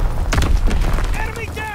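Mortar rounds detonating in the Call of Duty WWII shipment 1944 multiplayer map: heavy booming thuds and crackling blasts that crowd the first second, followed by a rumbling tail, with game voice chatter mixed in.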